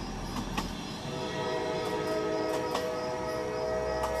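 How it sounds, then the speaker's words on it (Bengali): A train pulls away from a station in a misty evening, rumbling steadily with a horn blast early on and wheels clattering, loud and close without any voices. "আমি নেমে পড়ার কিছু মুহূর্ত পরেই ট্রেনটা বিশাল কালো ধোঁয়া উড়িয়ে অদৃশ্য হয়ে গেল সামনের কুয়াশার মধ্যে।"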